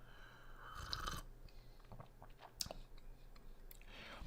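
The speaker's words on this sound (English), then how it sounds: "Let me get one more slurp." A close, quiet sip of hot caramel truffle coffee gives a short slurping hiss, then soft lip smacks and clicks with a sharp tick or two in near silence.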